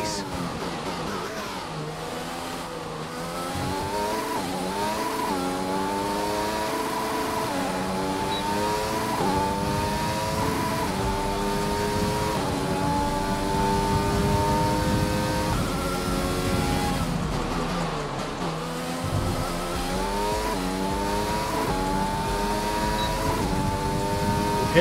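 A Formula 1 car lapping in F1 2020, a loud high-pitched engine whine climbing through the revs, dipping at gear changes and corners, then rising again, continuous and close.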